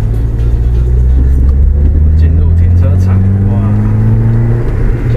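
A 1982 Mercedes-Benz W123 230E pulls away from a standstill, its engine droning loud and steady with a rising tone, with talk over it.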